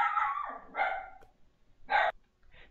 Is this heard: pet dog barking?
yes